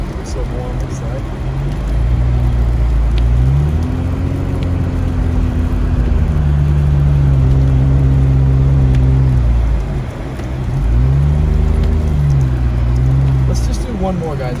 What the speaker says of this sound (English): The window's wide open because I like to have it open sometimes when I'm driving in the snow